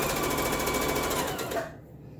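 A domestic sewing machine stitches minky blanket blocks in a steady fast whirring run that cuts off abruptly near the end.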